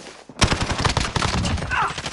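Sustained gunfire in a Call of Duty match, a dense burst of rapid shots that kicks in suddenly after a short quiet and rattles on loudly, with a faint voice underneath.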